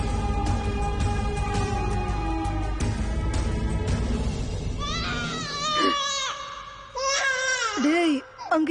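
A small infant cries in wavering, rising wails, starting faint beneath loud dramatic film music and train-like noise, then breaking out clearer and closer in the final seconds as the music drops away.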